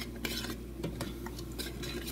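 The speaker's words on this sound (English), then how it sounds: "I'm gonna give that a stir." A spoon stirs quinoa and lentils in a pot, scraping and clinking in a series of short strokes over a low steady background hum.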